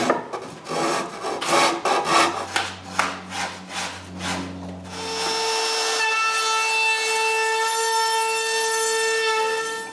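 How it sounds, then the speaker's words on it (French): A hand wood rasp shapes and rounds the edges of a cedar patio table, giving a run of rhythmic rough scraping strokes up close, then a steady grinding rasp with ringing tonal overtones, with no talking. "Je fais ces endroits-là à râpe."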